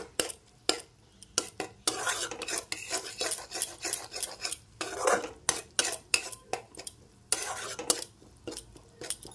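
Spices for a soybean and potato curry are stirred in a pan, with a spoon scraping and clinking against the metal in rhythmic strokes over a soft sizzle, close and clear, with no talking.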